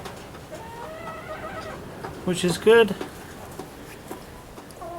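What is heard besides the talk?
chickens clucking on a new perch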